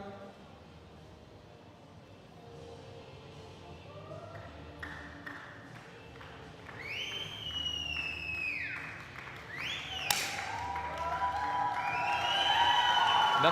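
Indian crowd applauding and cheering at the men's junior 10m air pistol final of a shooting World Cup in New Delhi, swelling from a murmur to loud, sustained noise with whistles, under a commentator's voice.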